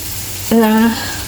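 Scrambled eggs fry in a pan with a steady sizzle, and a short voiced tone rises briefly over it midway.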